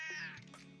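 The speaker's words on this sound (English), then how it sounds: "My cat was meowing." A house cat meows once, close and fairly loud, a short rising-falling cry heard over a livestream.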